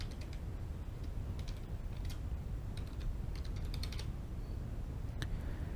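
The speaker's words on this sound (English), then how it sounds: "I'm going to key in the password, which I have already set." Password typed on a computer keyboard: quiet, irregular key clicks over a steady low background hum, heard close with no talk.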